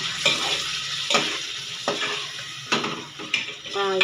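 Liver pieces for liver thokku cooking in a pan, a steady sizzle broken by several sharp stirring scrapes and clinks of a utensil against the pan, close and moderately loud.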